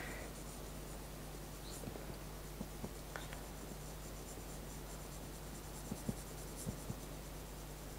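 Graphite pencils, a 2B and an H, scratch across drawing paper in soft, faint strokes, with a few small taps and scrapes over a quiet hum.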